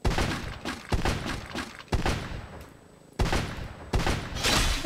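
SKS rifle shots in Free Fire, with several loud, close single cracks spaced about a second apart, each trailing into dense battle noise.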